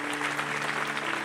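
A church congregation claps in a dense burst of applause, close and continuous for just over a second.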